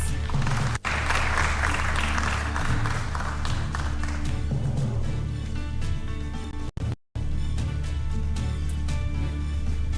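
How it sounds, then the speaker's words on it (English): Audience applause at a Nairobi gubernatorial debate as a candidate is called to the stage, sustained many-handed clapping with a low hum underneath, briefly cut by a dropout near the end. "You can give them a round of applause."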